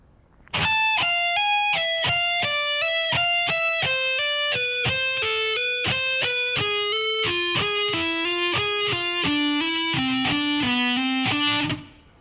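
A distorted electric guitar plays a solo pattern slowly, with a steady run of single picked notes stepping gradually downward over about eleven seconds, clear and alone before cutting off.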